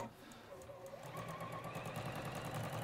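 A sewing machine stitching a French seam with a steady, fast mechanical whir and rattle, fairly faint, with people talking over it.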